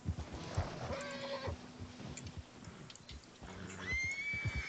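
A horse in Red Dead Redemption 2 whinnies near the start and again near the end, faint and tinny under game ambience with soft hoof clatter, no one talking.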